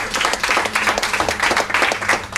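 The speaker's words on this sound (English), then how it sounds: "Big applause for Juanjo." Audience applause at a panel on peer-to-peer accommodation and travel, steady dense clapping throughout, moderately loud with no voices over it.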